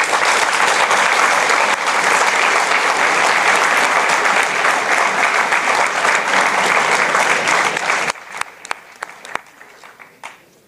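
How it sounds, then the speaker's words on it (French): Sustained, loud audience applause at an academic final of a school engineering science olympiad, dense clapping filling about eight seconds before thinning into scattered claps. "je voudrais qu'on vous applaudisse tous"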